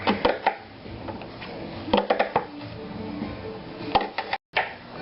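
A knife slices an onion in a French home kitchen while ratatouille is being made, giving a few close, crisp cuts in uneven bursts with quiet pauses between them.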